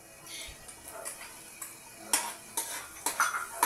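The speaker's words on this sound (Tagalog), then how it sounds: "Haluin ng haluin." Onions being stirred in a pan with garlic for Filipino pares, quiet sizzling under irregular scraping and clinking of a utensil against the pan, growing sharper in the second half.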